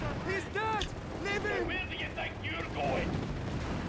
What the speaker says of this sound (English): Shot bounces off the Matilda's thick frontal armor.